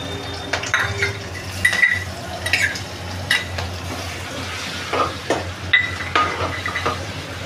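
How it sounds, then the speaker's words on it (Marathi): Garlic sizzles in hot oil with asafoetida in a pan, a steady low fry broken by scrapes and clinks of a spoon stirring against the metal. "आता आपल्याला लसूण घालायचं आहे."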